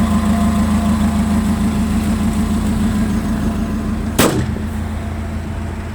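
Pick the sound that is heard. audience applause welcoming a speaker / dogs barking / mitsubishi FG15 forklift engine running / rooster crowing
mitsubishi FG15 forklift engine running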